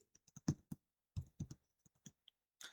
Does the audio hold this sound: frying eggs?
no